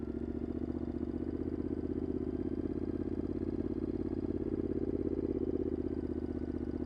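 A scrambler adventure motorcycle's engine runs steadily and loudly up close, with a continuous throbbing drone and rhythmic mechanical pulse that holds even for the whole stretch.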